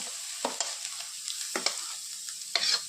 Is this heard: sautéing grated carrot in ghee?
yes